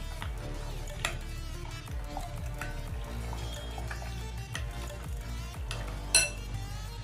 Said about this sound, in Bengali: এবার সব কিছু ভালো করে মিক্স করবো